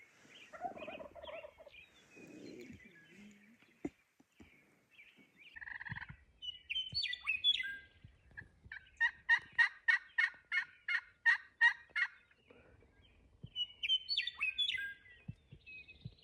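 Merriam's turkeys gobble in South Dakota river bottoms, a rapid run of about ten loud, evenly spaced gobbles in the middle, with other bird calls and chirps scattered around it and no talk.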